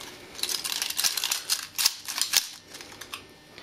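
Copper knife-glove fingers give bursts of sharp metallic clicks and clacks as a hand closes and opens, close and fairly loud, in irregular clusters with no talking.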